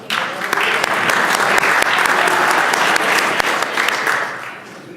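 Sustained applause fills the Virginia House of Delegates chamber, a dense, steady round of clapping from legislators that holds for several seconds before tapering off at the end.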